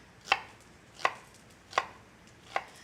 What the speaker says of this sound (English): Go in to slice it.